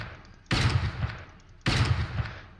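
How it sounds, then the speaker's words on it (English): In the war video game Foxhole, a magazine is emptied in two loud, sustained bursts of rapid gunfire, each cutting in sharply and ringing on for about a second. "I'm gonna just empty mag"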